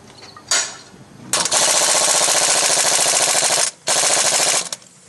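A puller removes the harmonic balancer damper from a GM 3400 engine, driven by a loud, close, rapid-fire impact hammering in two long bursts separated by a brief pause.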